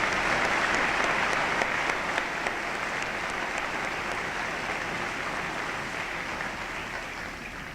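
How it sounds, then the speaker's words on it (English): Audience applauding graduates at a graduation ceremony, a dense, sustained round of clapping from a large crowd that holds steady and fades slightly toward the end. "Let's give all these graduates a round of applause."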